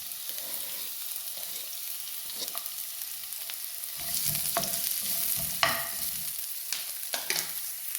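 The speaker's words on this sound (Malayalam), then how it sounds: "എണ്ണ ചൂടായി കഴിഞ്ഞാൽ ഒരു സബോളയുടെ മുക്കാൽ ഭാഗം നമുക്ക് ഇട്ട് കൊടുക്കാം" Chopped onion fries in hot oil in a pan with a steady, close sizzle and occasional stirring scrapes and clinks, with no talking.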